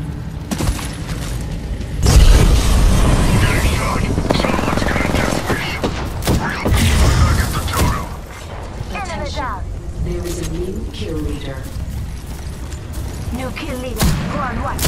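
Gunfire and a frag grenade explosion in a battle royale shooter video game, with bursts of shooting, a loud boom-like stretch early on, and game voice callouts speaking over the action throughout.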